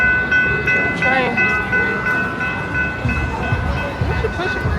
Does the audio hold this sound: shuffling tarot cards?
no